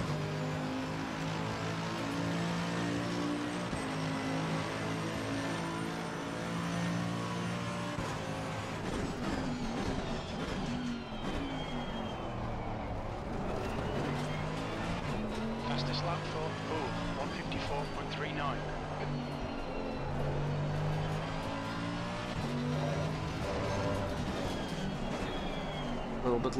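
A race car lapping in the game Assetto Corsa Competizione, its engine repeatedly winding up and dropping through gear changes and braking zones, steady and continuous, with a driver occasionally talking over it.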